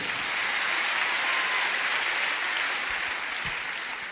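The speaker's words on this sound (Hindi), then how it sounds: "एक जोरदार ताली इनके लिए।" A crowd gives loud, sustained applause for a younger brother introduced at a family gathering, dense even clapping holding steady throughout and easing slightly at the end.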